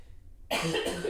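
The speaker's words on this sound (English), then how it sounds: "excuse my cough" A single loud, close cough bursts in after half a second of near silence, its rough noisy tail trailing off.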